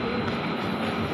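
JR 205 series commuter train at a station, a brief steady rumble of rolling wheels and motor noise, moderately loud with no voices.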